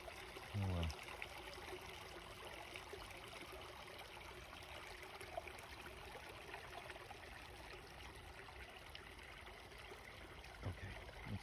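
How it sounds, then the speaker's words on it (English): A creek runs through the New Jersey woods, a continuous faint burble and rush of flowing water, heard alone with a couple of brief low bumps. "Creek's running pretty nice."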